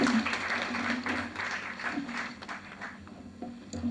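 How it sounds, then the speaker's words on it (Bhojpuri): Audience applause fills an auditorium at a Bhojpuri women poets' kavi sammelan, a steady wash of clapping that holds for a few seconds and then eases slightly. "जोरदार ताली"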